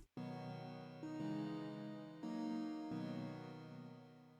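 Soft synth chords in a hyperpop beat change slowly in a few steps, sustained and washed in reverb set wetter than dry, sounding faint and far off, with no voices.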